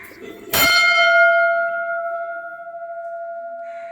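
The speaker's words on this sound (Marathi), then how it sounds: "एक घंटा वाजव जरा. घंटा खूप मोठी आहे" A single strike on a large temple bell at Alibag fort gives a sharp clang, then a long, clear ringing tone that slowly fades and beats, heard up close.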